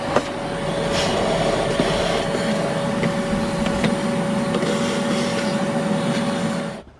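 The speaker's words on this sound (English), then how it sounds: "vacuum all these leaves and all this dirt out" A steady, droning vacuum runs continuously inside a BMW 7 Series car cabin with a constant whine and rattling leaves and dirt, then cuts off at the end.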